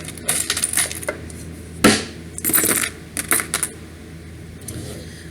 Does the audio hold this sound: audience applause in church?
no